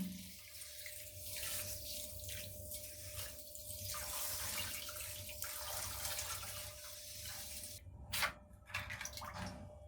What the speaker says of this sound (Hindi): उसमें 1 किलो जो है वो चीनी हमने डाल दी है और इसमें 1 लीटर जो है वो हम पानी शामिल करेंगे